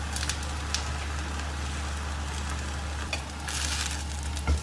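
Banana rolls with coconut and jaggery filling fry in a pan as their sugars caramelize, making a steady, moderate sizzle with soft crackles and a few louder pops.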